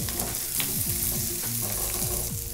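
Capsicum and finely cut green chillies for chilli chicken fry in a hot pan with a dense continuous sizzle, loud and close, overlaid by a repeating rhythmic pattern, with no voices.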